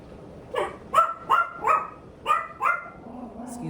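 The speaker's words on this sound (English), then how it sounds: "Excuse the dog." A dog barks indoors, five sharp, fairly close barks in an uneven rhythm, followed by a short whimper.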